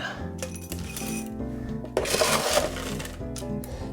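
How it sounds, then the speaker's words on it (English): Crushed ice being scooped and tipped into a frozen cocktail glass at a bar, giving a busy run of clattering, crackling clinks that swell louder midway, with no talking. "I got some crushed ice here. Crushed ice, ready to go."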